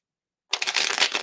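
Tarot cards being shuffled make a brief, close burst of crisp riffling flutters that starts abruptly after a half-second of silence.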